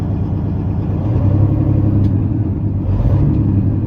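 A 2016 Peterbilt 389 glider truck with a single-turbo Cat C15 engine and 18-speed transmission rumbles loudly and up close, a deep, steady diesel drone with a slight rise in revs.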